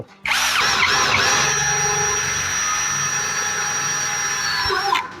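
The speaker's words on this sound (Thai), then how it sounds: "ถ้าเรามีหัว 90 องศาแบบนี้นะครับนะผมก็ใส่ตามมุมแบบนี้นะนี่เดี๋ยวลองเจาะให้ดูนะ" An OCD701-D1 cordless 5-in-1 drill fitted with a 90-degree angle head whirs up sharply and drills at a steady, loud, high-pitched whine for about five seconds close by, then stops.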